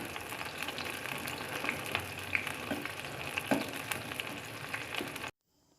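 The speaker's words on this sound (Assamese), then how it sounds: "চব্জিখিনি তেলত দি দিছোঁ।" Vegetables for a banana flower fry sizzle in hot oil with onion and five-spice seeds, a busy crackling hiss with small pops and stirring clicks that cuts off abruptly into silence at the end.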